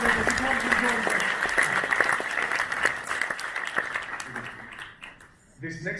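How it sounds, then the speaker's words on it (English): Audience applause fills a stage performance as a volunteer walks up to join a magician, steady clapping with a low murmur of voices, fading toward the end before a brief rise. "Big round of applause, please, as he comes and joins me."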